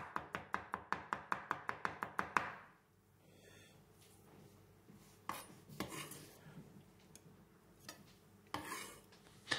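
A knife chops garlic finely on a board for beef lasagne: a quick, even run of about a dozen sharp, close strikes, then a few scattered, louder single chops over low kitchen noise.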